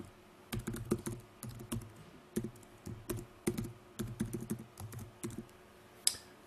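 Text typed on a computer keyboard during desktop publishing work in Scribus, with bursts of quick key taps and short pauses between them, close and fairly quiet, no talking.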